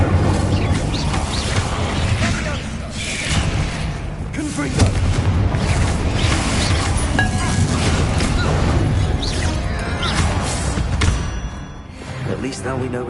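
Explosive spell blasts from the Hogwarts Legacy video game, booming and crashing repeatedly through dense, loud game noise and music, with a voice talking throughout.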